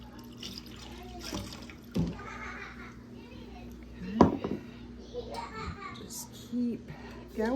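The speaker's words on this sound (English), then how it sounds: "Keep going, and it gets slower because the sediment in the wine is thicker towards the bottom." Homemade muscadine wine being strained and poured into a jug, with faint liquid trickling and splashing heard beneath children's voices and background chatter.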